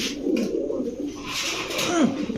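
Hungarian Budapest pigeons cooing in a loft, low rolling coos repeating close by over a steady background of other birds.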